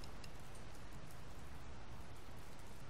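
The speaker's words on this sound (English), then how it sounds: "I don't think it's supposed to still be raining" Rain falling in the Dr. Langeskov video game, a steady, quiet hiss of drops on a surface, continuous and even with no other sounds.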